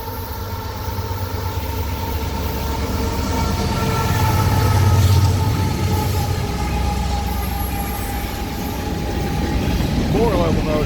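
A CSX manifest freight train pulled by several locomotives rolls past through morning fog, a loud continuous rumble of engines and rail cars that swells as it passes close by and then eases slightly, with brief talk in the background.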